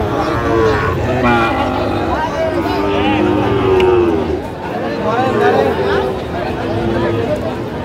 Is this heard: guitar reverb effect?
no